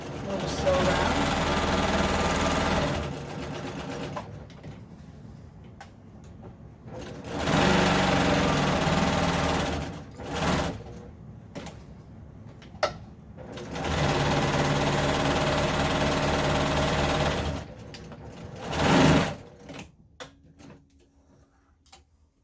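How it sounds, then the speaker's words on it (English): A sewing machine stitching a quarter-inch seam around a fabric Christmas napkin, running in several steady bursts of rapid whirring separated by pauses. "We'll just sew around."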